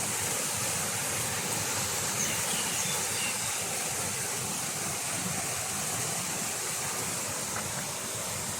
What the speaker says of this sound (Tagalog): Malapit sa may waterfall.